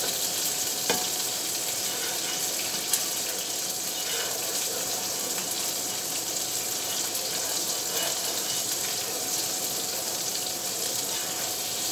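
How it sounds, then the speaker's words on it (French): Butter sizzles and crackles in a frying pan as the pan is swirled, a continuous close hiss with a few sharp clicks and a watery, bubbling texture. "Donc le beurre, on le fait bouger un peu, comme ça dans la poêle, pour qu'il puisse dégraisser la poêle."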